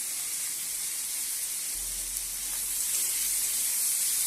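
Ground turmeric, cumin and Kashmiri chilli frying with fish masala and tomato in a pan give a steady, close hissing sizzle with no talk.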